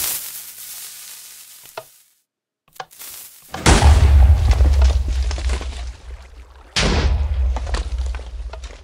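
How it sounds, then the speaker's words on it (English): A cannon blasts through a water pillar in the video game Hybrid Whiskey, with a loud, sudden roaring burst of rushing water and rumble, then a second heavy blast follows, after quieter bumps. "The cannon will blow through it."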